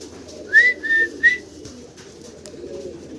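A pair of Shallow pigeons with large feathered legs calls at a farm: three short, bright whistling notes in quick succession over a low, steady murmur, then quieter background.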